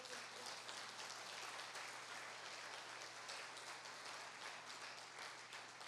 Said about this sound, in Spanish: Entonces déle un aplauso al Señor.